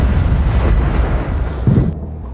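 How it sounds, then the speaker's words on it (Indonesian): Kitchen stove exploding after a lighter is thrown at it, a loud deep roaring blast that rumbles for about two seconds before cutting off abruptly, close and without talk. "melemparkan korek ke kompor yang membuat kompor tersebut meledak"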